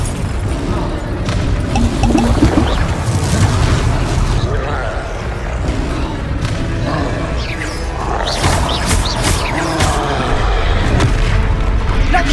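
Fiery spell blasts from a Hogwarts Legacy battle: repeated booming bursts and crashes over a dense, continuous rumble of combat, loud and close throughout, with a voice heard in the mix.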